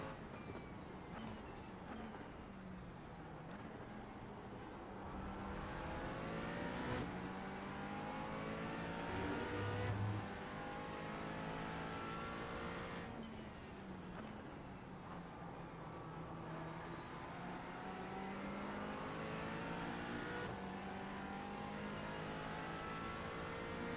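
A McLaren 570S GT4 race car engine in the iRacing sim at Daytona holds a steady, loud drone throughout, with a rising and falling pitch as it shifts and revs along the track.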